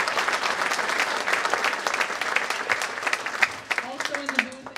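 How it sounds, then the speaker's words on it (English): Dense crowd applause fills a school auditorium at a high school musical, steady and fairly loud throughout, with a voice and a few whoops rising near the end. "please give a big round of applause to Jack."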